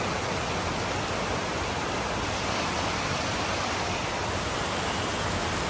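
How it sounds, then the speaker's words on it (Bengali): Heavy rain pours down in a steady, dense hiss that stays loud and even throughout, with no voices. "ভরপুর বৃষ্টি চলে আসছে"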